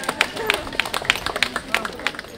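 Pilgrims clap in a loose, rhythmic burst as a pilgrimage on foot sets off, sharp hand claps repeating about three times a second over crowd chatter and talk nearby.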